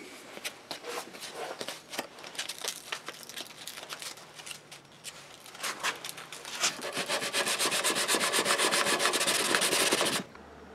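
A knife blade is sanded with 220 grit paper in a cold shop: rhythmic rubbing strokes start scattered, then speed into a fast, steady back-and-forth scrubbing that stops abruptly at the end.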